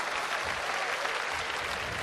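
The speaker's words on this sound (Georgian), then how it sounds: "დასხეთ რა, ტაში დასხეთ ერთი." Steady, dense audience applause at a Georgian New Year comedy show concert, continuous and fairly loud throughout with no voices on top.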